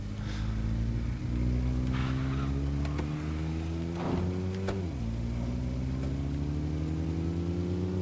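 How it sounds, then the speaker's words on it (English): In the video game State of Decay, a car engine drones steadily while driving, its tone rising gradually and then dropping as the gear shifts near the end, loud and continuous with no talking. "I'll jump back in my car."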